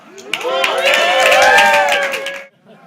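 A comedy club audience bursts into cheering and applause for a stand-up comedian, a dense crowd roar with whoops and claps swelling for about two seconds before cutting off abruptly.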